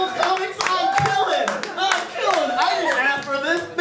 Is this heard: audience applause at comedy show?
yes